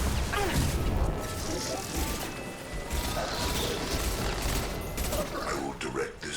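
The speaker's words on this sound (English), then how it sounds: "Taking fire." Gunfire in a Mass Effect Legendary Edition firefight, a dense, continuous fusillade of shots and impacts with voices talking over the battle throughout.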